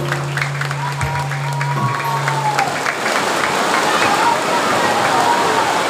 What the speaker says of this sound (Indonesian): Beri tepuk tangan yang baik.